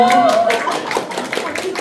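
A group claps together in a church training-school session right after a rock-paper-scissors team pick. The applause is brief and fairly loud, and voices run over it throughout.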